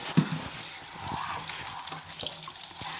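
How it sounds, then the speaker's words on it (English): Warm tap water runs steadily while a tactical dog harness is rinsed on both sides to flush out soap, with light splashing and a few soft knocks over the flow. "Just going to rinse both sides. Get the soap out of it."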